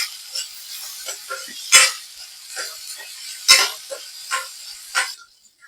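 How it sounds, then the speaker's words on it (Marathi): Onion roasting in a hot pan, with soft sizzling and hissing that surges in several bursts as the pieces are stirred and tossed, heard close up with no talking. "कांदा सुरुवातीला चांगला भाजून घेऊयात थोडासा लालसर रंग येईपर्यंत कांदा भाजून घ्यायचा आहे"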